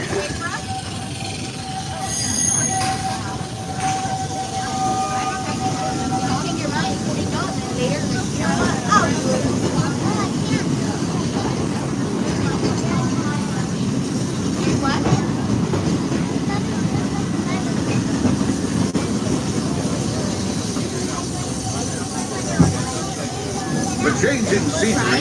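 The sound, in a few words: Big Thunder Mountain railroad train ride at Magic Kingdom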